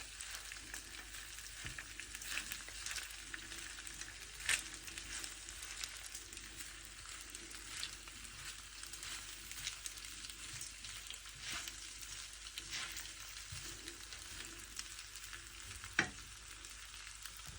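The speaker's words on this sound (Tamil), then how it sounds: "எல்லாத்தையும் நல்லா இதை மிக்ஸ் பண்ணி விடுவோம்." Cooked rice stirred through a spiced pan over low heat for spicy lemon rice, with a soft steady sizzle and occasional spoon scrapes, a few sharper clinks standing out; no talking.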